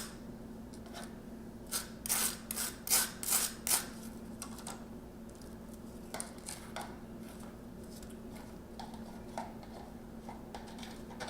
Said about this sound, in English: So, quickly, just butter, scrape that over.